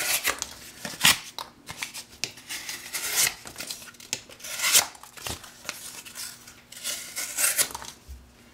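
A Northwoods Iron River knife saws and slices through cardboard, producing close, uneven bursts of rasping, tearing and crinkling strokes at an irregular rhythm, with no talking.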